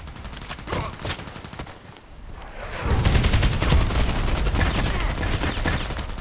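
FN SCAR-H battle rifle firing in the online shooter Contract Wars: sharp repeated shots, first scattered and softer, then a loud rapid stream of automatic fire mixed with other gunfire, with a player talking over it.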